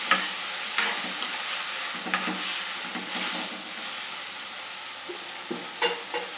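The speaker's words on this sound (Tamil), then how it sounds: "அந்த கத்திரிக்காய் அதில் சேர்த்துக்கலாம். சேர்த்து நல்லா வதக்கி விட்டுடலாம்." Eggplant pieces sizzle and fry in hot oil in a pan, with bright steady crackling and intermittent scraping stirs from a spoon, close and continuous with no talking.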